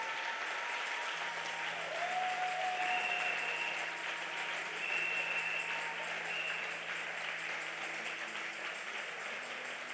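Church audience applauding at a testimony gathering, with steady dense clapping that holds evenly for the full stretch at moderate, slightly distant loudness and no talking over it.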